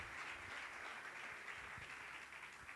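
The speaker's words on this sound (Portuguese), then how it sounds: "Você pode aplaudir o nome do Senhor." Steady, even applause from a church congregation during a worship service, a dense continuous patter of many hands, fairly distant and quiet.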